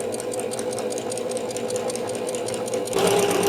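A sewing machine stitches a straight-line quilt in a fast, even mechanical rattle, close and continuous, picking up slightly louder near the end.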